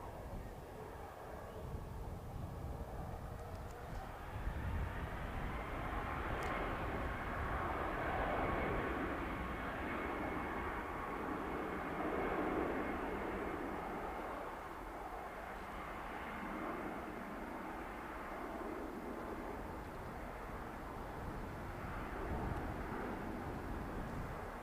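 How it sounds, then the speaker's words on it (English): An Orange Airways airliner on landing approach at Manchester Airport, a steady broad engine roar that swells and holds throughout, heard from a distance outdoors with no talking. "We've also got Orange Airways on approach."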